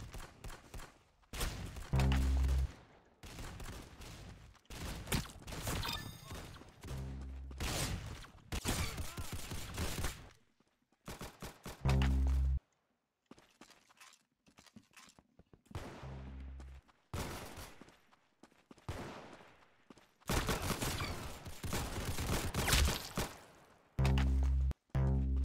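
Bursts of rapid gunfire from a first-person shooter game, Fake Arsenal, come in loud repeated volleys separated by short pauses, with deep thumping impacts.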